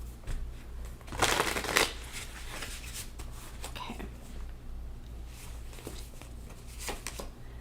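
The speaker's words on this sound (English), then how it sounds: "Okay, one more shuffle." Tarot cards being shuffled close up, a loud riffling burst early on followed by softer scattered card shuffles under a steady low background hum, with no talk.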